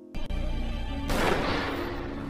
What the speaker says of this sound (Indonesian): Kemudian dia menembak Harlan sampai tewas.